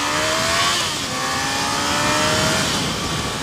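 A motorcycle engine revs up with rising tones, loud and close, over a steady roar of wind and road noise.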